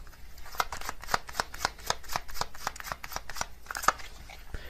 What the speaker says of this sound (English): I'm going to get another card from this deck as well.